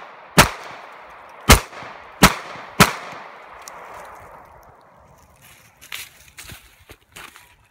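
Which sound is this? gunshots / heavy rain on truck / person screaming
gunshots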